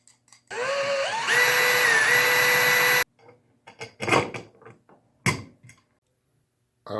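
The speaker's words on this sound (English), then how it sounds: "drill a couple bolts through it, and attach this to the bottom" A power drill whirs loudly for a few seconds, changing pitch as it bores bolt holes in a baby stroller frame being converted into a wind turbine. Clicks and knocks from handling the parts follow.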